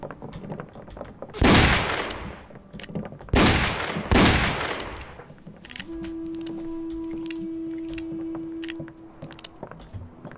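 Gunfire in the Roblox Wild West game: three loud, close bursts of shots in quick succession, followed by a sustained electronic tone with scattered fainter pops and clicks.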